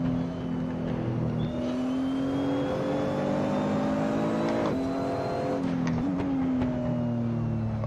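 A Nissan GT-R race car engine in the Assetto Corsa racing game, droning and revving steadily up and down throughout, with gear-shift dips and a passing whir, loud and continuous with no talk.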